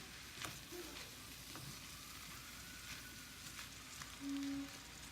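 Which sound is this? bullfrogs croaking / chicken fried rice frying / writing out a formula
chicken fried rice frying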